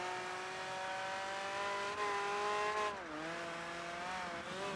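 A race car engine in Project Gotham Racing 3 holds a steady high-pitched whine, dipping sharply around a gear change before climbing again, loud and continuous with no talk.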